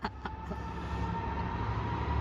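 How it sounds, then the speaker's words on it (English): Diesel freight train with a DB Class 66 locomotive, 66032, rolling through a station on the Marston Vale Line, a steady broad rumble with a faint whine, continuous and fairly close throughout. "we have a freight train passing through."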